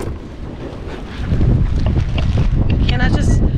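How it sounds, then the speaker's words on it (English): Wind buffets the microphone outdoors with a low, rough roar that grows stronger partway through, and faint voice-like sounds come through underneath. "let me block the wind."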